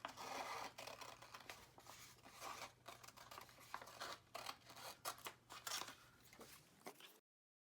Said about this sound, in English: Next, we're going to carefully cut on the line.